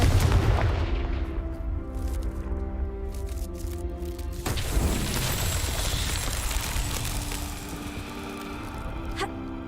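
Blasting-spell explosions in Hogwarts Legacy: a heavy booming burst with crackling debris, followed by a sustained rumbling roar over droning game music.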